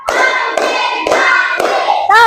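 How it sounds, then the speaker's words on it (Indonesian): A classroom of students claps hands together in a loud, steady rhythm of four strong beats close by, with a brief vocal sound at the very end. "biar lebih semangat kita tepuk dulu ya"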